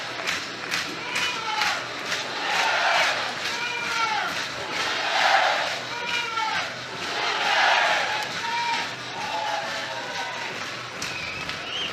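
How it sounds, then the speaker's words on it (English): A capacity crowd at a Friday night women's college softball game in Norman, Oklahoma, cheers in rolling waves, swelling and easing several times. The noise is steady and moderately loud throughout. "Another capacity crowd on a Friday night in Norman"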